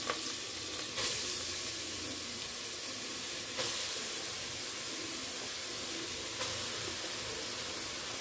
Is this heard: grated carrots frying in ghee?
yes